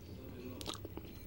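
Biting into an Easter egg gives a few faint, quick crunches in the middle of a short moment, over a low background murmur.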